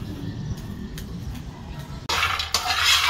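Cacao beans dry-roasted in a pan without oil for homemade tablea chocolate, stirred with a utensil: steady scraping and rattling near at hand, growing louder and harsher partway through, with no talking.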